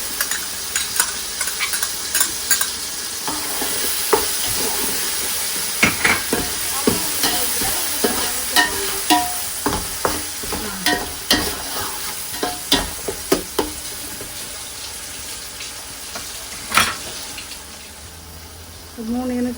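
Ginger garlic paste fries with onions for a hot and spicy Chennai crab curry. A steady sizzle carries repeated rhythmic scraping and stirring knocks, with faint background voice.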